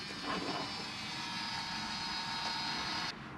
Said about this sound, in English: I'm going to stick this fluid transfer pump to siphon out the fluid